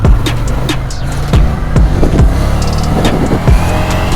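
A Ducati Scrambler motorcycle engine drones loudly and steadily under heavy wind rush while riding, with some roughness as the throttle is eased and reopened.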